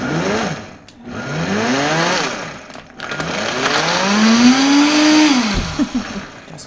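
Kitchen blender pulsing in bursts, motor pitch sweeping up and down several times, loud and close, with brief pauses between pulses.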